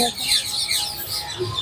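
Sparrows and other small birds chirp and twitter in short bursts beside a lake, several calls overlapping against a quiet background.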